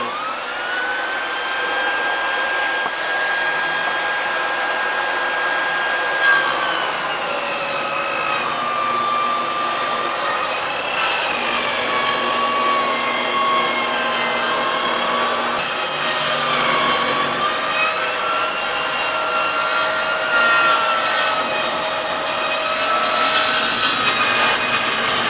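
A SawStop 10-inch compact table saw rips lumber with dust extraction running, a loud sustained whine whose pitch sags and recovers as the board feeds through the blade, close and continuous with no talk.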